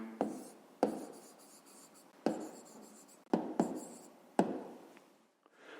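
A pen writes an answer by hand on paper during a fifth-grade maths exercise, a close, quiet series of scratchy strokes in several separate bursts with short pauses between them.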